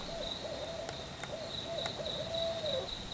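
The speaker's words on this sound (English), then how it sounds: "Ooh, nice owl sound effect. That is nice. It's a real owl, too." A real owl gives a soft, low hoot that stretches into a long drawn call, distant and faint over a steady background of high insect trilling outdoors at night.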